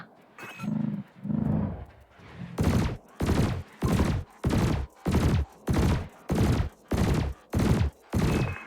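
Ship weapons in Elite Dangerous firing at floating canisters: two low humming pulses, then a steady run of about ten loud, evenly spaced blasts.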